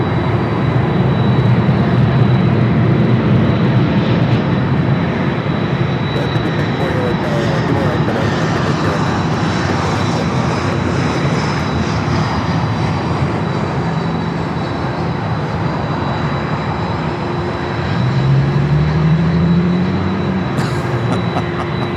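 A Delta Boeing 767-300ER jet bound for Las Vegas at LAX produces a loud continuous engine roar lasting the whole stretch, rising in pitch toward the end, with talking heard over it.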